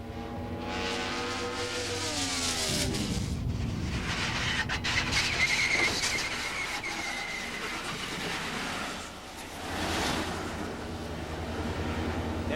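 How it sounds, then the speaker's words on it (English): A small race car runs in the near lane of an A main event, its engine whining and shifting pitch as it passes close, with a broad roaring rush of other cars and a brief dip before the noise swells again. "Keep your eye on the little bitty car in the near lane."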